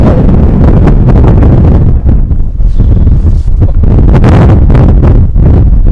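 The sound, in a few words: wind blowing into microphone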